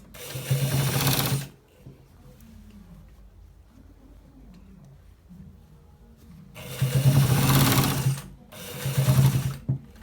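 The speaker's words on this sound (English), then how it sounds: "We are stitching it to the end part" A sewing machine stitches a designer shirt in two loud, close bursts, about a second and a half first, then a longer run after a quiet pause, with no talking.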